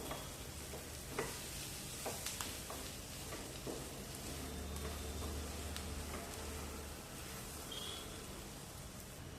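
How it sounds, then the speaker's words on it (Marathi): Crushed chapati pieces are stirred into fried spices in a pan, giving quiet scraping and a soft frying hiss with a few sharp clicks of the spoon against the pan; no one speaks. "जे नूडल्स बनवून घेतलेले आहेत ते टाकायचे आणि व्यवस्थित असे मिक्स करून घ्यायचे आहेत"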